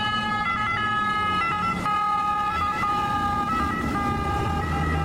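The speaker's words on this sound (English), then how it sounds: "This is what ambulances look like in Venice." An ambulance siren sounds in Venice with a continuous two-tone wail over some engine rumble, loud and close.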